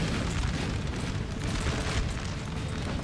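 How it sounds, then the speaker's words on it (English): Artillery fire in the Napoleon Total War video game, a steady, dense rumble of booming cannon blasts that blur into a continuous roar, moderately loud, with no voices. "that was the artillery I kept getting in the way of"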